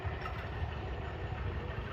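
An auto rickshaw engine runs steadily during a ride, a low, continuous rumbling drone with slight knocking pulses, close and constant with no voices over it.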